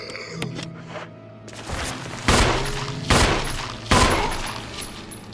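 Gunshots in Resident Evil 1: three loud, distinct shots spaced under a second apart, each with a sharp crack and short decaying tail, preceded by quieter game noises.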